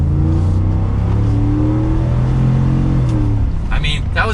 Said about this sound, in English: let's give it a little bit of gas.